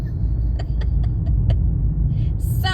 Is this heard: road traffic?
yes